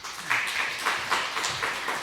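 A church congregation at a Sunday afternoon service gives a short round of applause to welcome a guest pastor, steady clapping from many hands filling the room, moderately loud and without talk.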